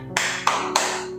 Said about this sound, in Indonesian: Siapa yang punya tangan, tepuk tangannya.